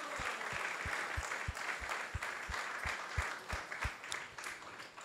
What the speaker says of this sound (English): So let's give a big round of applause to everyone.